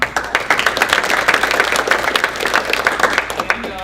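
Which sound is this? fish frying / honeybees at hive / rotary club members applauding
rotary club members applauding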